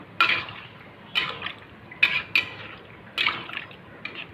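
Stirring cabbage, potato and tomato curry with added water in a pan, several separate wet scraping and sloshing strokes at a slow, uneven pace, close and fairly quiet with no talking.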